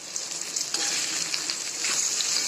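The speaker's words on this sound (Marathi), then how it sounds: "आता हे सगळं मिक्समधून काढून घेते आणि कांदे चांगले भाजू देते" Chopped onions fry in a pan with a steady close sizzle and crackle and a few brief louder pops.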